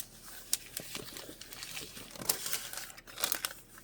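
A gift box is opened by hand, with soft crinkling and rustling of packaging in quick close bursts and small taps, without speech.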